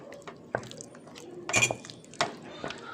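Maja blanca mixture with cheese is stirred in a pot, with a utensil clinking and scraping against the metal in a few distinct knocks over a quiet background.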